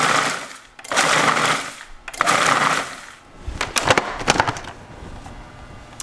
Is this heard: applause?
no